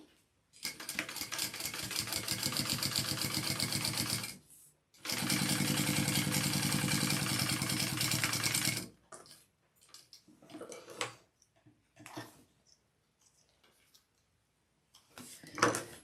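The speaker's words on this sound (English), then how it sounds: "And then we want to top stitch along there." A sewing machine top stitches fabric in two long, steady runs of rapid, even clatter, pausing briefly between them, then fades into scattered soft clicks and handling noises near the end.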